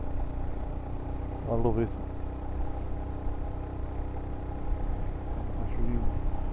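Kawasaki Z900RS motorcycle engine on a ride along country lanes, a steady mid-pitched drone running throughout, with a person talking briefly over it.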